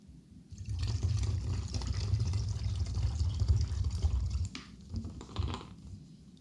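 Vinegar, 9% strength, pours from a bottle into an empty water bottle in a steady, fairly loud liquid stream lasting several seconds, then trailing off into a few gurgles and splashes.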